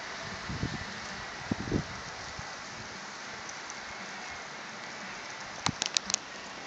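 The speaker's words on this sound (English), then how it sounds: "Raindrops are falling, but the worst is yet to come." Rain begins falling as a thunderstorm arrives in Yakima, a steady hiss of drops on surfaces with a few louder close taps and spatters.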